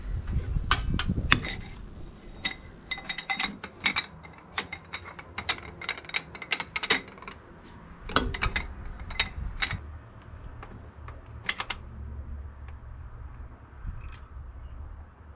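A ratcheting special socket removes delivery valves on a 6BT diesel engine being fitted to a GU Patrol, producing bursts of close, rapid pawl clicks with short pauses between strokes.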